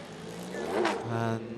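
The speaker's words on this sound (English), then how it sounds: "Lamborghini that pulls up" The Forte O'Gara Lamborghini race car pulls up during 2023 Six Hours of The Glen qualifying, its engine note briefly swelling and settling into a low idle hum under a commentator's voice.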